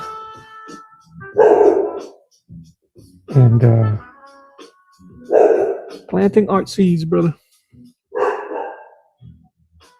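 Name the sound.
dog barking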